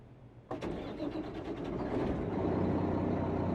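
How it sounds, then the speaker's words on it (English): In American Truck Simulator, a Mack R truck engine cranks and fires, then settles into a steady, rumbling diesel idle that grows slightly louder, heard close with no talking. "we're just going to start the truck up and get on the road"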